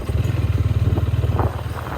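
A 500cc motorcycle's engine thumps in a fast, steady, loud pulsing rhythm close by, then fades slightly as the beat loosens, with no one talking over it.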